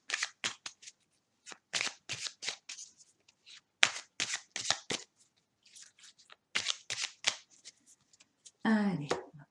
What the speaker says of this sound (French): on va procéder au tirage